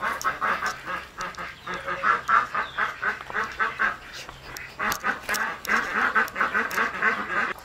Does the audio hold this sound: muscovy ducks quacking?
yes